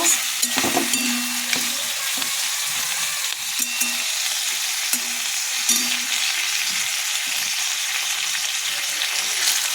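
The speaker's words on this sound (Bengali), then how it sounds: "পুরো মশলাটাকে ভালো করে কষে নেব।" Ginger-garlic paste masala is sautéed in a pan, making a continuous close sizzle broken by repeated scraping and stirring strokes of a spoon.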